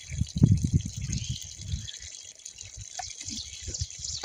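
Himalayan spring water gushes and splashes nearby while someone drinks from it, a continuous watery rush with irregular low gurgles and splashes.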